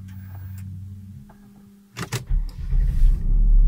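Porsche Cayenne 955 V8S starting: a faint electrical hum and clicks give way to a sharp crank burst, then the V8 catches and settles into a loud, steady idle rumble close by.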